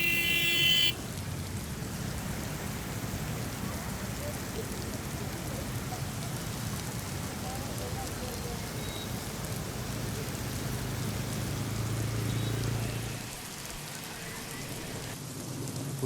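Heavy monsoon rain pours down steadily overnight near the Ulhas river, a dense continuous hiss that stays loud throughout before easing slightly toward the end.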